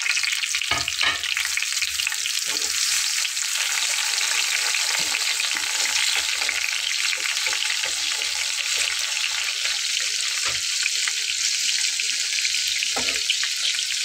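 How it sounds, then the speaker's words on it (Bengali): Eggplant pieces frying loudly in hot oil previously used for frying fish, a dense continuous sizzle with occasional clicks and knocks of a utensil, close and steady throughout. "এখন এই মাছ ভেজে নেওয়া তেলের ভিতরে আমি বেগুনগুলোকে ভেজে নেব।"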